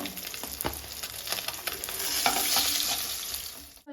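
Oil sizzles steadily in a pan as rui fish fry, with crackling pops and the occasional scrape of stirring, close and fairly loud, no talking.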